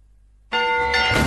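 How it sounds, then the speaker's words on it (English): A warning bell from The Village film trailer strikes once and rings on loud and sustained, its metallic tone filling the space after a brief silent lead-in. "Warning bell, for they are coming."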